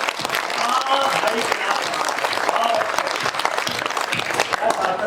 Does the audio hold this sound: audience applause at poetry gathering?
yes